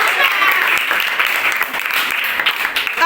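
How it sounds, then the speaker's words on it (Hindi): A group of children in a classroom quiz claps together in a dense, steady burst of applause that fills the whole moment, with faint voices mixed in. "और बाकी जवाब दिए उन लोग के लिए भी तो ताली होना चाहिए ना।"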